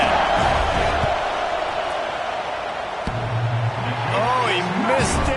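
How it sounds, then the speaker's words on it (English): Stadium crowd roaring during a field goal attempt in a college football video game, Buffalo against LSU, a loud sustained wash of noise with a commentator talking over it. "This crowd trying to do its part to get inside the kicker's head."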